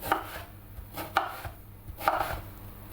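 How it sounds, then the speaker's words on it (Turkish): A knife cubes eggplant and potatoes on a cutting board in three sharp, evenly spaced strikes, close and clear with no voices. "patateslerimizi aynı şekilde küp küp doğruyoruz"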